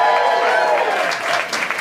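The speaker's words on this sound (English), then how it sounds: "Give us a cheer if you're excited to see Kermit the Frog tonight." A theatre audience at a Muppets celebration show cheers and claps loudly for a short, dense burst of crowd noise.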